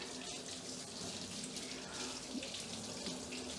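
A steady stream of warm water runs from a tap into a sink, constant and unbroken, heard up close.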